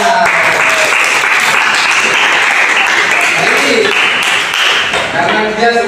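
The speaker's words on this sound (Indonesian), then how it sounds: "Masya Allah, tepuk tangan." Classroom applause for a pupil who has just recited memorised Quran verses: dense, steady clapping from a group fills the whole stretch at close range and loud, with a few voices mixed in underneath.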